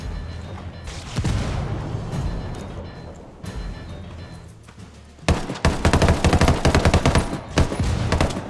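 Heavy automatic gunfire and booming shots from a Ghost Recon Wildlands firefight, rattling in dense bursts that swell loud and nearly continuous in the final seconds.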